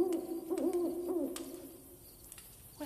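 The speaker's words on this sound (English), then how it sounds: "Oh, it's an owl, that's all." An owl hoots in a quiet outdoor night setting, several soft repeated hoots in a gentle rhythm, clear and fairly near against a calm background.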